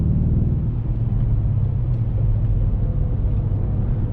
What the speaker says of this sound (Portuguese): esse som do V8 é música para os ouvidos